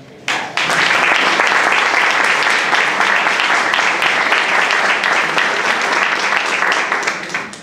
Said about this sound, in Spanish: no tengo nada más que decir, más que pedir un fuerte aplauso